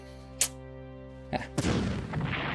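Artillery fire in the Panzer Corps wargame: a sharp distant shot, a short pause, then two more heavy booms, the last rolling into a sustained rumbling blast over a faint steady hum.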